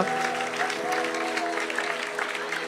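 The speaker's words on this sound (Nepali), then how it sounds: "स्वर्गतिर हेरेर ताली बजाउनुहोस्" A church congregation claps together during worship, a sustained, dense patter of many hands with a sung or spoken voice running faintly beneath.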